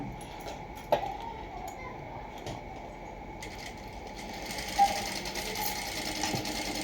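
A sewing machine runs steadily while stitching blouse pieces, producing a quiet, continuous mechanical whir with a couple of small clicks, heard alone at close range.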